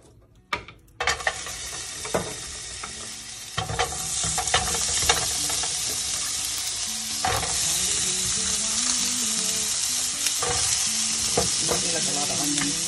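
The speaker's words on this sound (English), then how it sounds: "but I'm gonna stick the onions to start cooking." Onions go into a hot pan and fry with a loud, steady hiss that swells after a few seconds, broken by scraping stirs and clinks of a utensil, with no talking.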